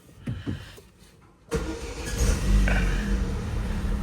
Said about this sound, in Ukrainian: Ну, Зараз я ще заведу в машинку і подивимося.